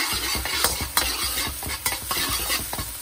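Eggs frying in a very hot pan for egg and bok choy fried rice, a continuous sizzle broken by quick, rhythmic scraping and tapping of a utensil against the pan, no speech.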